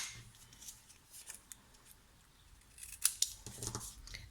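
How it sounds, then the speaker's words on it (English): Scissors trim a strip of cardstock for a handmade stamped bookmark, giving a few sharp, close snips and paper rustles, quiet and alone with no talk. "So if I grab my scissors,"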